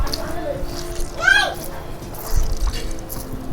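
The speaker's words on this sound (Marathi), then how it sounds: "आता मी ना ही भाजी पिळून घेते पूर्ण पाणी काढून घ्यायचं" Wet boiled wild greens are wrung out by hand over a kitchen vessel, giving faint trickling and dripping water that runs intermittently under someone talking.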